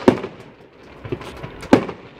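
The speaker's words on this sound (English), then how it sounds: "It's nice having a personal fireworks display, isn't it?" A fireworks display pops and crackles at a distance, with two sharper bangs standing out at the start and near the end over quieter scattered bursts.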